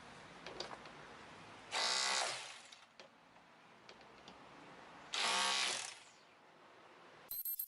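A power drill bores a hole into a concrete wall for a door hinge plate, with two loud, close grinding bursts of about a second each, separated by quieter handling noises, and a third burst starting at the end.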